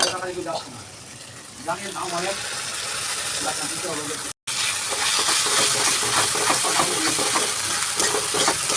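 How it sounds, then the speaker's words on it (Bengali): Coconut paste sizzles and fries in a pan for prawn malai curry, a steady close hiss with stirring scrapes. Someone speaks over it at first, and after a brief cut the sizzling grows louder. "এটা দিয়েও হালকা একটু কষিয়ে নেব। নারকেলটা দিয়েও কষিয়ে নেবো একটু।"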